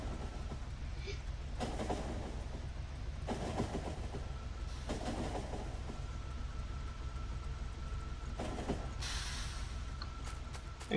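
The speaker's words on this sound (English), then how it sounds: "Let's ride the train." A train running in the video game Factorio rumbles steadily with a continuous low rolling drone, its clatter swelling in bursts as it travels.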